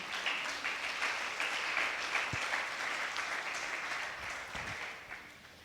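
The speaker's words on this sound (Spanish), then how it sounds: "denle ese aplauso al Señor" A church congregation applauding during a Sunday service, a dense, steady round of clapping from many people with a few low thumps scattered through, easing slightly toward the end.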